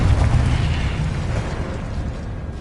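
The Confringo blasting spell detonates in a wizard video game with a loud, close boom that rumbles heavily at first and then fades into a lingering roar.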